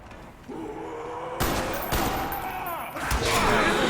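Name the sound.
gunfire in Call of Duty zombies video game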